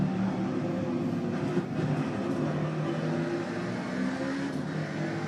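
Racing cars in the video game Forza Motorsport run close to the track edge, a steady loud engine drone with low tonal harmonics that hold and shift slightly, no talk over it.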